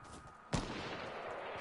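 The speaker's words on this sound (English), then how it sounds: "they're sniping at somebody" A single sharp sniper rifle shot in the video game Fortnite, one crisp crack partway through followed by a lingering rumble, moderately loud over a quiet background.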